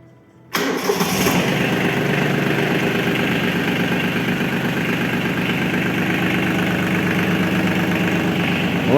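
A Yanmar mini tractor engine cranks and catches, then settles into a steady, loud diesel idle with an even low throb that continues without talk.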